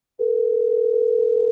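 A steady, unbroken telephone tone on a call from a morning radio show starts abruptly after a brief silence and holds loud and clear, with no talk over it.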